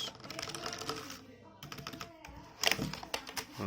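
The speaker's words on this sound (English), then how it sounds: "Keys are fine to press." Keys clatter on a Zebronics ZEB-KM2100 multimedia USB keyboard being unboxed, a fast, close run of plastic key presses with a slightly louder burst near the end.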